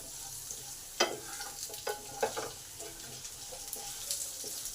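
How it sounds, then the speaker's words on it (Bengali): Potatoes for a bhindi aloo masala fry sizzle in a pan, a soft continuous crackle broken by several sharper scraping stirs of a spatula. Faint and close, with no talking. "আলুটা আমার হাফ ভাজা হয়ে এসেছে।"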